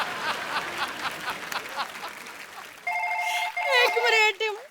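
A telephone rings with a bright electronic warble in the second half, close and loud. Before it comes a lively stretch of a comedy show, with studio voices and audience noise.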